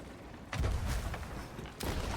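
Two booming cannon shots ring out in a naval video game, the first at about half a second and the second near the end, each a loud, broad blast that lingers with rumbling low-end decay.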